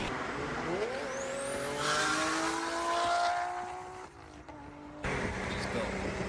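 Turbocharged car accelerating hard, a rising engine whine with a high turbo whistle sweeping upward, loud and near, easing off around four seconds before a burst of noise resumes; a voice talks over it.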